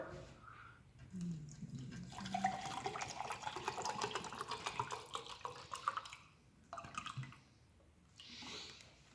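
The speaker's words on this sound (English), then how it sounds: "We'll add 2 cups of water." Water pours and gurgles into a small ration pouch for several seconds, with splashing and bubbling, then briefly trickles again after a pause.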